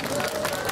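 Audience applause for a band at a street-festival college song contest in Suwon's Paldalmun market square; a brief, dense wash of clapping from a crowd, fairly loud and continuous.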